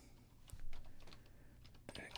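Soft, quick keystrokes patter on a computer keyboard at a desk, a faint run of clicks with brief pauses, quiet and close, with low speech mixed in.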